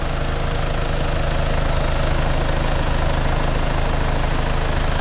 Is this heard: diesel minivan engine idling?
yes